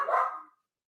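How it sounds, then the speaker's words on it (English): One short, fairly loud dog bark sounds close by indoors and fades quickly into silence. "We take a sip of water while King Bacon Pie goes and barks at nothing."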